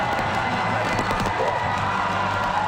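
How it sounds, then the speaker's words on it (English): A crowd at a school under-18 rugby cup semi-final between Bromsgrove and Whitgift cheers and shouts in a continuous roar, with young voices and a little clapping blended into a steady, fairly distant din. "giving their crowd something to cheer about"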